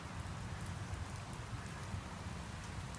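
Outdoor rain pours down in an even, dense hiss near a garage, constant and close for the whole stretch with no voices over it.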